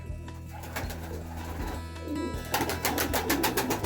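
Young pigeons in a pigeon loft coo repeatedly, low throaty calls rising and overlapping with soft fluttering and rustling that grows busier toward the end, close and moderately loud.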